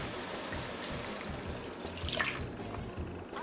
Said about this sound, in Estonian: siis lisame vee.